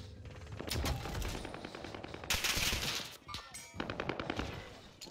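Rapid automatic gunfire in the Call of Duty Warzone video game on Rebirth Island, with several overlapping bursts of fast shots and sharper cracks at a moderate distance.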